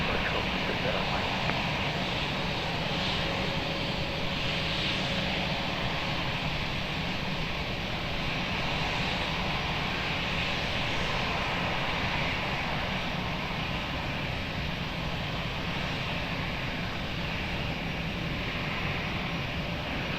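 Airliner taking off from runway 20 at Lisbon Airport, a steady broad engine roar held for the whole stretch with no clear rise or fade, constant and fairly distant, with faint radio chatter in the background.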